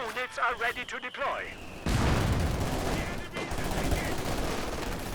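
Machine gun fire and explosions in the strategy game Company of Heroes 2, with heavy sustained bursts and booming impacts under a commentator's voice. Earlier, short tonal sound effects come before the firing.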